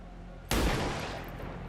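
A grenade shot in the game XCOM Long War sets off a sudden loud broadband blast about half a second in, then a rumbling roar that slowly fades.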